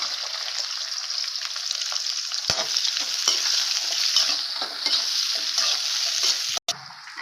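Long-sliced onions hit hot oil with bay leaves for a vegetable biryani, giving a loud, steady, close sizzle with scattered crackles and a brief dropout near the end.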